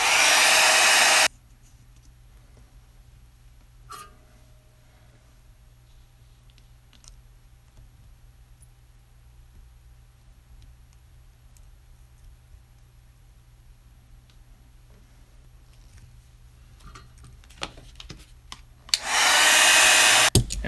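A heat gun blasting hot air to shrink tubing over a wire joint, loud and steady for about a second at the start, then cutting off into near silence broken by faint clicks, before blowing again strongly near the end.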